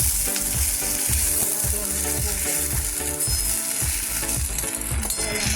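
Masala spices sizzle and fry in a pan of potato and pea curry (aloo matar rasa), a steady loud crackle with a rhythmic stirring or scraping pattern running through it and no talking.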